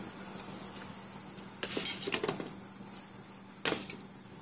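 Sliced beef added to a boiling soy-based sauce in a pot for Yoshinoya-style gyudon, a quiet simmer hiss then clattering bursts of meat and utensil against the pot, no talking.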